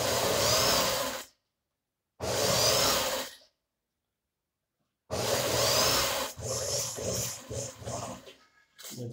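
Sewing machine stitching a sport-style djellaba garment, running in three loud sustained bursts with pauses between, the last burst more uneven and stuttering.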